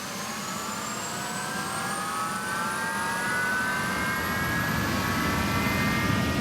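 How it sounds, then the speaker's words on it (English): Airbus A330 jet engines running on the tarmac during a ground test, a steady loud roar with rising whine tones that slowly climb in pitch as the engines spool up, continuous with no talk. "the jet engines need to go for a test spin on the tarmac."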